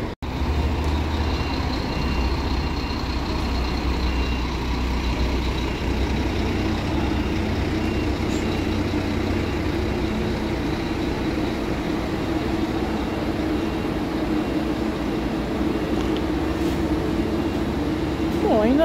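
A Flixbus coach idling and rolling at the Uberlândia road terminal, a loud steady diesel engine drone with low rumble that holds unchanged throughout, with faint station background noise.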